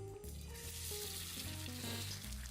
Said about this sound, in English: A sharp sizzling sound followed.